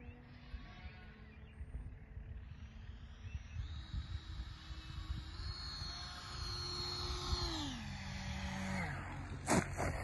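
An FMS Hawk RC model jet lands at a model flying club, its turbine whine rising and falling as it passes, then dropping in pitch, over steady wind and outdoor rumble.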